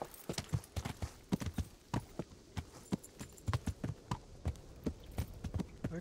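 Horse hooves in the video game Kingdom Come: Deliverance clip-clop in a quick, steady rhythm on hard ground, fairly quiet with no voices.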